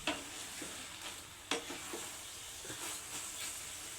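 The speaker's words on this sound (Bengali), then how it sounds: "একটু নাড়বো যাতে জল মরে যায় আরও ভালোভাবে এবং চিনিটা মিশে যায়।" Taro leaf curry with coconut is stirred in a pan as the water cooks off, giving soft intermittent scrapes and a faint sizzle, quiet and close.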